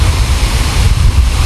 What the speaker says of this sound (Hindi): आबशार के करीब आने पर आपको बहुत ज़्यादा ठंडी ठंडी हवा आना शुरू हो जाती है